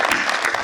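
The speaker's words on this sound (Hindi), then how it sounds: "अरे बजाओ ताली यार" Audience at a mushaira claps steadily in a short, dense burst of applause, with no talk over it.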